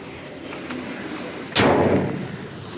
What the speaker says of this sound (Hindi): इंजन आपको बोनट की आवाज़ भी आई होगी।